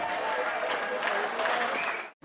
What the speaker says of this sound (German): Applaus für Graham Bonney.